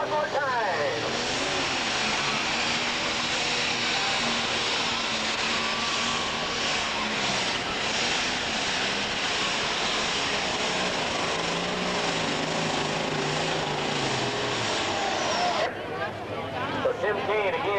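A John Deere pulling tractor in a 2002 NTPA Pro Stock pull at Saline, Michigan, its engine revving and droning loud and steady under an announcer's voice, then cutting off abruptly near the end.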